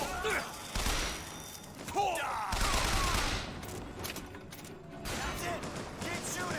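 Gunfire rattles in BioShock Infinite, with loud bursts of shots and a couple of clanking mechanical impacts mixed with voices talking over the action.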